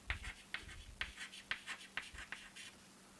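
Crisp, rhythmic strokes of writing on a board during a materials science lecture, about a dozen short scratchy taps at a steady pace, close and fairly quiet.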